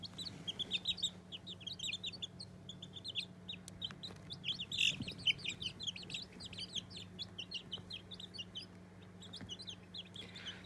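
A group of baby chicks chirps continuously, with many high overlapping peeps close by over a low steady hum, no talk.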